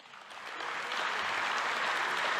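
Crowd of NRA convention attendees clapping during a Donald Trump speech: dense, sustained applause that swells over the first second and then holds steady and loud, with no voices standing out.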